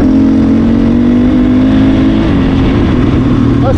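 A 450 motocross bike engine runs loud and close after being restarted. It holds a steady, throbbing idle with only slight shifts in pitch.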